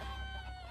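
Game chickens clucking in the battle simulator Totally Accurate Battle Simulator, a short continuous burst of fowl calls with a steady buzzing tone, moderately loud and without speech.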